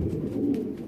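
Pigeons that are squaring up to fight produce a steady low cooing that fills the clip, close by and continuous, with no talk over it.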